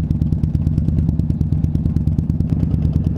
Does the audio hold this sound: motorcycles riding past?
yes